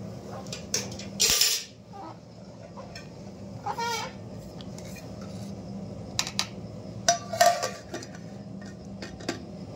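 Gobindobhog rice for khichuri being stirred in a pot: scattered metallic clinks and short scrapes of a ladle, some sharper knocks, over a quiet steady background hum, nearby and without talk.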